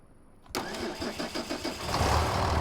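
An old John Deere 4440 tractor engine cranks and fires up after near silence, catching with a loud chugging rhythm that settles into a heavy, rising idle, close by and without talking.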